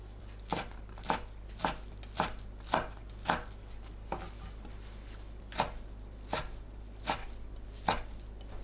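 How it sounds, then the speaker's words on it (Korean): Knife chopping soaked, squeezed miyeok seaweed into small pieces on a cutting board: a steady series of about fourteen sharp, close chops at an even rhythm, alone over a low background hum. "미역을 작게 썰어 주세요."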